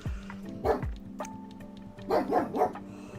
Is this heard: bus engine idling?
no